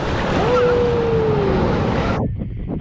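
Ocean waves wash and roar close by on the shore with steady wind buffeting the microphone, then the sound cuts off abruptly near the end.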